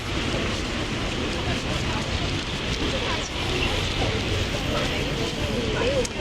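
Steady rain hisses continuously across the whole stretch in Paris, with some faint background noise mixed in.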